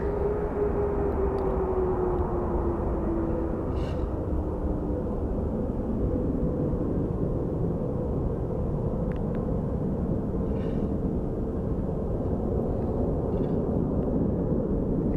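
An airliner departing Phoenix Sky Harbor for LAX gives a steady, broad jet roar that holds evenly throughout, with a faint falling whine early on and no voices.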